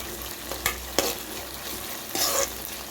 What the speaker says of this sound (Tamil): 2 டேபிள் ஸ்பூன் எண்ணெயை ஊற்றிடுங்க. நறுக்கி வச்ச 2 வெங்காயத்தை சேர்த்துடலாம்.